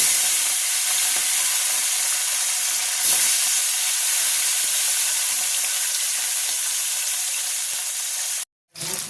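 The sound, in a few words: fish frying in hot mustard oil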